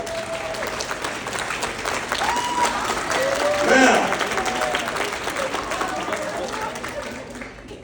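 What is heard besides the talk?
audience applause and hand claps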